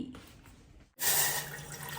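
Kitchen tap turned on while cooking, a sudden loud gush of running water starting after a short quiet drip, then flowing steadily and close by.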